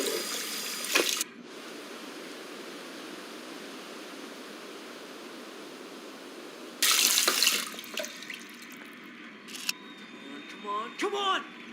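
Cold water runs from a tap in the video game Captain Spirit, a loud steady splashing rush in short bursts at the start and again later, with quieter game sounds in between.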